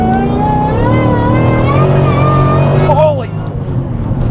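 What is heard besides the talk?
Cadillac V-Series car engine revving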